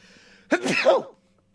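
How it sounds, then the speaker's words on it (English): A single close, loud sneeze with a sharp intake and burst, standing alone against a quiet background in a home gaming setting. "I feel like a sneeze coming"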